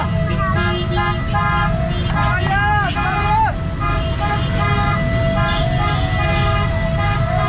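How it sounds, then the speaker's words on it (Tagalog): Vehicle horns honk repeatedly in a Philippine street protest, sustained tooting blasts in a steady pulsing rhythm over a loud crowd and traffic din, with a falling wail near the middle. "Busina, busina, busina, busina, busina, busina, busina."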